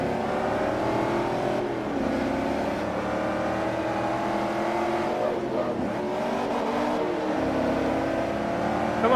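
A Ferrari and a Corvette race in Forza Motorsport 3, their engines droning and revving steadily and loudly in close pursuit, with shifting pitch as they accelerate.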